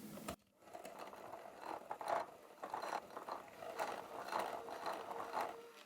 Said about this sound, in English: All right, so now I'm going to take the hand mixer. I'm going to mix this up.